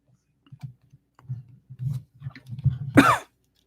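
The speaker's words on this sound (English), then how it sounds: "I'm going to die from coughing because this is ridiculous." Soft clicks and breaths build to a single sharp, harsh cough near the end, close and fairly loud against otherwise quiet surroundings.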